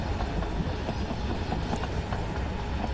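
Train rumbling along the track at speed in a derailment scenario, a steady loud roar of wheels and engine with faint rhythmic clatter, no talk.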